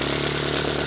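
A car exhaust fitted with a different tip, giving a steady, rough, close-up drone at idle that stays even and loud throughout.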